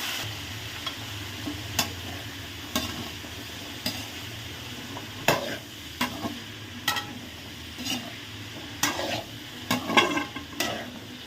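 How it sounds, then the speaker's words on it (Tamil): Okra frying in a pan with cumin and curry leaves for South Indian poriyal, a low steady sizzle broken by sharp, regular clicks of a spoon scraping and stirring, close and fairly quiet. "நல்லா பொரியுது உறவுகளே"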